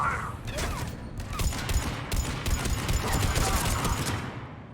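A sustained volley of gunfire in Mass Effect 3 crackles as rapid, overlapping shots, loud and continuous, with dense low rumble under the sharp bursts.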